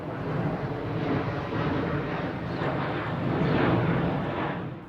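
Steady broadband jet airliner roar building during takeoff, loud and continuous with a slight swell toward the end, heard alone without voices.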